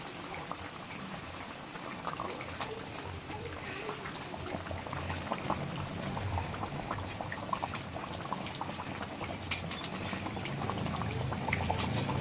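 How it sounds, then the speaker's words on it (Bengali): Pangas fish curry gravy bubbling on a gas stove, with a steady crackling simmer and soft liquid sputtering held at an even, moderate level throughout. "দেখুন ঝোলটা কিন্তু ফুটতে শুরু করেছে"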